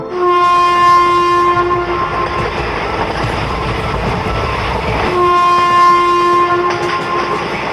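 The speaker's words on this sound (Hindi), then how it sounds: "तभी ये ट्रेन शुरू हो जाती है।" A train pulling away, with two long, loud horn blasts separated by a quieter stretch of rumbling rail noise, close and with no talk.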